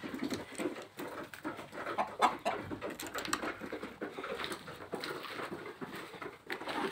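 Chickens pecking at layer feed, a busy mix of soft clucks, bird calls and rapid pecking patter, steady and close throughout.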